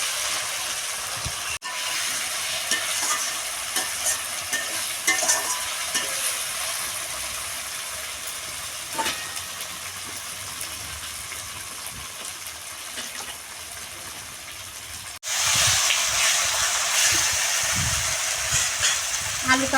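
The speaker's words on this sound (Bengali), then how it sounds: "আলুটা দিয়ে ভালো করে কষিয়ে নিয়েছি" Fried potato pieces stirred into an oil-released spiced masala in a pan for a vegetarian mochar dhoka, giving a steady frying hiss with scraping stirs throughout, growing louder and brighter near the end.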